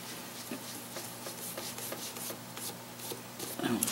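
A cloth rubs shellac in a French polish finish on a vintage sewing machine, making soft, quiet, repeated brushing strokes in a steady back-and-forth rhythm.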